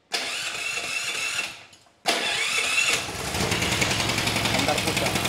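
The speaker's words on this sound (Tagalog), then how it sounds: "So yung generator na ito, pwede po siyang push button at madali rin po siyang i-start" A push-button generator cranks briefly, pauses, then fires and settles into a steady loud running drone, with someone speaking over the engine.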